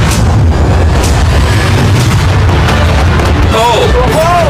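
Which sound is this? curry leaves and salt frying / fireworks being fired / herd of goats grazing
fireworks being fired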